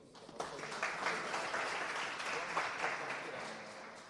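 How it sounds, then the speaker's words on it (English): An audience at an EIT Community Croatia innovation kick-off event applauds moderator Luis Puerto, a steady, fairly soft patter of many hands clapping for several seconds without talk. "A big applause for Luis as well."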